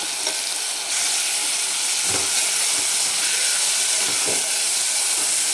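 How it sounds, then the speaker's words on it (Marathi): Fresh spinach sautéing in hot oil with salt, a loud continuous close sizzle and hiss that jumps up about a second in, with occasional soft stirring thumps. "पालक भाजी पण दोन मिनिट तेलामध्ये परतून घ्यायची"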